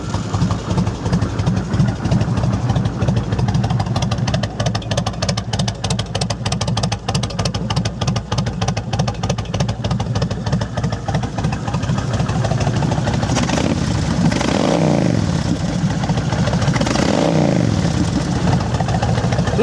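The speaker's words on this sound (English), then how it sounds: "Liquid cooled 1600cc V-twin with a 5-speed." A 2006 Kawasaki Vulcan 1600 Classic, a liquid-cooled 1600cc V-twin cruiser with a Cobra exhaust, idles with a steady deep pulsing loping beat, then gives two quick swelling revs near the end, all close by.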